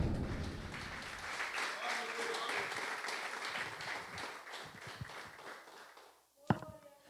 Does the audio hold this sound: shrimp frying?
no